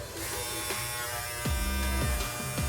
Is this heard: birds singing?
no